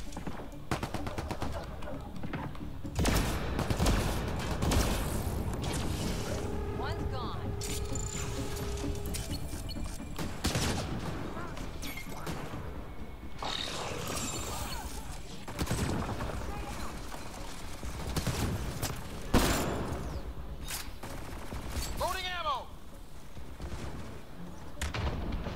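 Repeated bursts of shotgun gunfire in Mass Effect: Andromeda, heavy blasts cracking out among mechanical clatter and effects over a busy, steady background.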